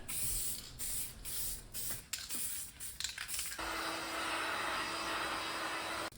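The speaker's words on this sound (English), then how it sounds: "I start the first coat applying the paint very lightly and paint only the primered area to begin with." An aerosol can sprays car paint in a light first coat over a primered repair area on a car body: short hissing bursts, then one long, steady, close hiss.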